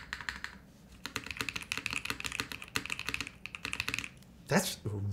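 Rapid bursts of typing on a Bauer Lite prototype mechanical keyboard, crisp close clacks in uneven runs, followed at the end by a brief voice.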